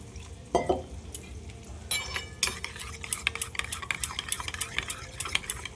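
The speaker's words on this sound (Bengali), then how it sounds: "এবার এটা আমি মিশিয়ে নেব" Rapid scraping and clinking of a utensil stirring crushed spices and onions in a kadai, a steady busy rhythm of small metallic strokes, close and fairly loud, no talking.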